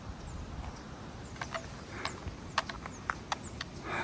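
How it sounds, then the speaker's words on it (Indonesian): A horse carrying a rider with a guide on a quiet mountain trail toward Annapurna Basecamp, hooves giving a faint, irregular clip-clop of sharp knocks over steady outdoor background noise. "cuman Mbak Meda yang naik kuda sama guide-nya"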